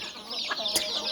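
Desi chickens and roosters on a small farm, a couple of short close clucks over a faint steady background.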